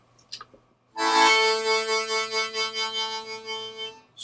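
A harmonica plays octaves with tongue blocking in a bright, sustained chord with a rhythmic pulsing wobble, loud and close, after a brief soft sound beforehand.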